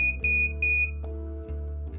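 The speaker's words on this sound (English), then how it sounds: "The alarm will sound and the pump will stop." A sharp electronic obstruction alarm on a medical infusion pump beeps in quick repeated bursts over a steady low mechanical hum, loud and close, as the pump stops.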